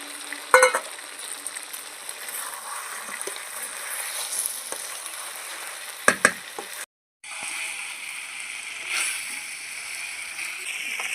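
Fried potatoes tipped into a sizzling pan of deshi country chicken kosha curry, with a steady close sizzle, occasional stirring clatter and a brief dropout midway.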